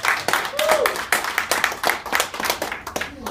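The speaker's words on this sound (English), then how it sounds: "Everybody give themselves a round of applause for coming out tonight" Small audience clapping at an evening gathering, a brisk, uneven patter of individual hand claps, fairly close, with a voice briefly heard among them.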